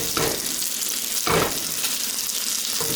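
A steak searing in a hot pan on the stovetop gives a loud, steady, close hiss and crackle of frying fat, with brief surges of sizzle as the meat shifts.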